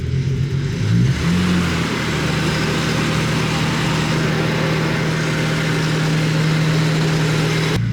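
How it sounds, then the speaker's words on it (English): Engine of a Nissan R33 Skyline just started after an auto to manual conversion, a short rev then a steady idling exhaust note, close and loud, with no talk. "The exhaust doesn't sound too bad either."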